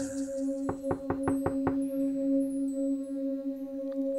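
Six quick knocks on an apartment door in a steady, even rhythm, followed by quiet, all over a constant low electrical hum and faint high tones.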